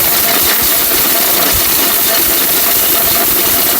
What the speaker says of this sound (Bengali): ভাই ব্লেন্ডারে গিয়ার চেক করতেছি